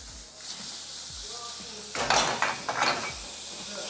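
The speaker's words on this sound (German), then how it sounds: "dann tun wir das alles in eine Pfanne, Topf, Sauteuse mit Butter." Onions and zucchini sautéing in butter in a pan make a soft steady sizzle that turns louder and brighter midway, with utensil clatter and stirring scrapes close by.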